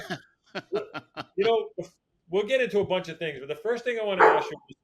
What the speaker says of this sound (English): I apologize about my dog right now